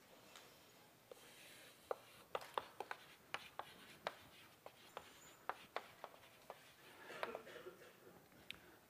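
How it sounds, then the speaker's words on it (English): Chalk tapping and scraping on a blackboard as a formula is written out in a calculus lecture, a steady run of sharp clicks and short strokes, close and fairly quiet, with no talking. "let me first write down the actual formula"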